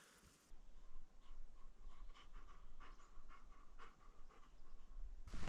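A dog pants heavily nearby in a quiet, misty forest after rain, quick rhythmic breaths repeating steadily and faintly throughout.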